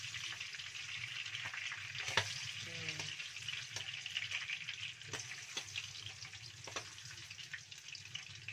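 Small capelin fish fry in hot oil in a pan, giving a steady soft sizzle broken by occasional sharp crackles and light scraping clicks, with no one talking.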